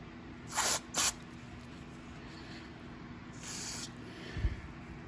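Carburetor cleaner sprays from an aerosol can through the holes of a Briggs & Stratton carburetor in short, close, hissing bursts: two quick blasts, then a longer, softer spray after a pause.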